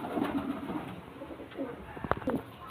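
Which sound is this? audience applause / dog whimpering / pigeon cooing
pigeon cooing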